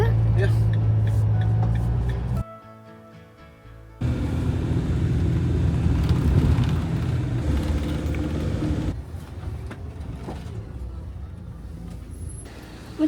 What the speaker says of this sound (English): It's the bus. Shuttle bus.